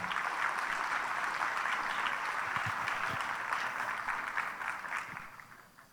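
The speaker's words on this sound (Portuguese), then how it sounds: "Senhoras e senhores, peço uma calorosa salva de palmas ao executivo Márcio Abraham." A warm round of applause greets executive Márcio Abraham at a Six Sigma congress in Brazil. A large audience claps as a dense, steady wash that fades out toward the end.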